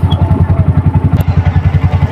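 Motorcycle engine idling loudly and close by with a steady, fast pulsing thump, set among a crowded gathering.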